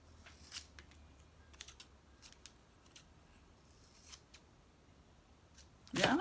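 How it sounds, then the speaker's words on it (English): Scissors snip through paper in a series of quiet, close cuts, a few crisp clicks spread out, ending with a louder rustle. "Let's just cut that out a little bit."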